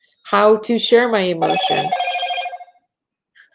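A mobile phone rings with a steady, multi-tone electronic ringtone for about a second, overlapping a person who is speaking close by.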